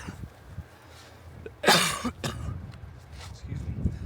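A single sharp cough bursts out near the middle, followed by a quick throat clear, amid faint background rustling.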